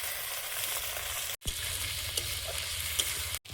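Onion, tomato and green chili fry in a pan with a continuous loud sizzle and occasional stirring scrapes, broken by two brief cuts to silence, with no talk.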